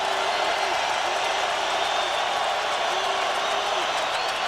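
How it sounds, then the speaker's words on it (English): Stadium crowd at a 1999 AFC Wildcard NFL game, Buffalo Bills at Tennessee Titans, roaring steadily and loudly as fans stand to urge on the defense, a dense continuous wash of cheering with no break. "The crowd on its feet again, encouraging Curse and the defense"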